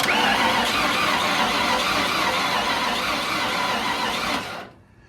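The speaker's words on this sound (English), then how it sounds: "I'll just take a listen of this thing when it cranks over" An old, crusty OBS-era Ford F-150 that sat for a year and a half, with a cylinder problem, cranks over in a loud, rough, continuous churn lasting several seconds before abruptly cutting off to near quiet.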